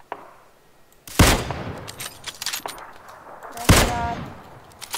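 Gunfire in the battle-royale game PLAYERUNKNOWN'S BATTLEGROUNDS: two loud, sharp shots about two and a half seconds apart, each with a ringing tail, among smaller crackles and faint background voices.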